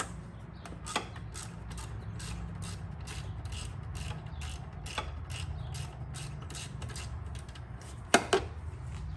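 A hand ratchet loosens 10mm bolts in the engine bay of a BMW F90 M5 with an S63 V8, clicking in a steady, evenly spaced rhythm close by, with a brief metallic clatter near the end.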